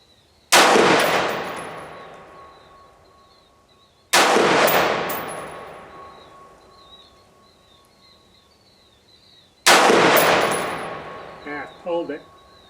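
Three loud, sharp rifle shots from an AR-15 fitted with a BCA side-charging upper, fired outdoors at target corners, spaced a few seconds apart, each with a long echoing decay and faint birdsong between them.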